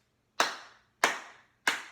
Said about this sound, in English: Clap 3 more times.